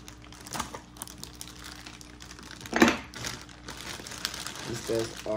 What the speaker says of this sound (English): I opened the bag to let some fresh air in there